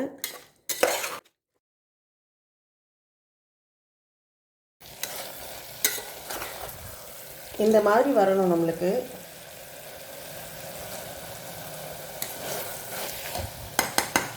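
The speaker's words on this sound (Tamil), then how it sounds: "மசாலா போட்டு நல்லா மிக்ஸ் பண்ணி விடுங்க." A spoon stirs and scrapes spiced masala with coriander powder, biryani masala and salt in a sizzling pan for vegetable biryani. Quiet frying follows a brief silent gap, someone speaks briefly in the middle, and metallic clinks of utensil on pan recur throughout.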